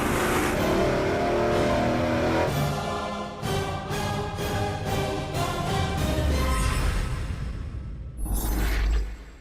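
A supercharged 555-cubic-inch big block Chevy engine, tested on a dyno during a muffler comparison, roars loudly and continuously. It revs in surging pulses and builds to a final swell, with no voices.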